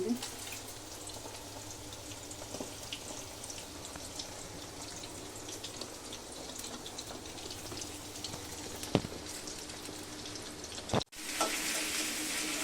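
Steady sizzling of chicken, onion and capsicum frying in a pan, a continuous crackling hiss with occasional stirring clatter, close and fairly loud, with no talking.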